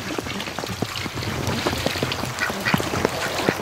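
Ducks quack and splash in filled pools outdoors during a snowstorm, with dense overlapping calls and water noise continuing without pause throughout.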